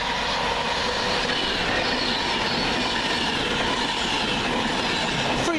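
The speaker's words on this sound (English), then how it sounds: "here comes 9 Mike 53 Virgin Trains from Glasgow Central to London Euston" A Virgin Trains passenger service from Glasgow Central to London Euston via Birmingham New Street rushes past at Smethwick Galton Bridge, giving a loud, continuous rumble with wheel noise throughout.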